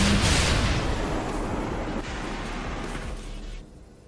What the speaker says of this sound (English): What caused the explosion?